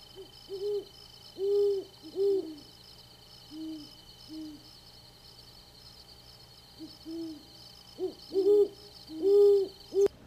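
Owl hooting in Arizona, with great horned owls among the species present: a series of low, soft hoots in short groups with pauses, set over a steady insect drone at night.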